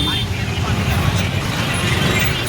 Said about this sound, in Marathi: रिक्षामध्ये बसून चाललोय.